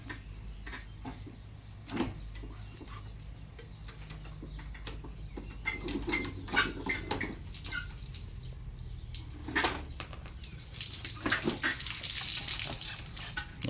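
Coolant water drains from the radiator of a Japanese A-155 farm tractor during engine removal, making a steady close broadband rush with splashing bursts that swell louder toward the end. No one speaks.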